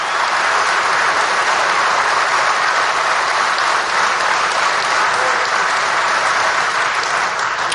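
Thunderous, unbroken applause rolls through a big crowd at a Trump rally, loud and dense from start to finish with a slight easing near the end.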